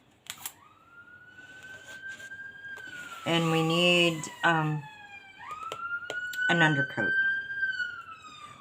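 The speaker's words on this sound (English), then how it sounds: "Let's let this ambulance pass" An ambulance siren wails and sweeps in pitch as it goes by, steady and fairly close, while a person speaks over it in short bursts.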